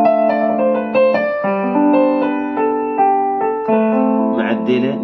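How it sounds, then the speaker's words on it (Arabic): Yamaha CK stage keyboard piano voice playing a short melodic phrase of sustained chords and single notes, clear and close, with no talking. "نبدأ بمجموعة البيانو، مثلا هذا صوت البيانو"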